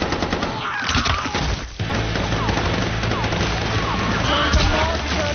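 Bursts of rapid gunfire crackle continuously, loud and chaotic, with a brief dip partway through before the firing resumes.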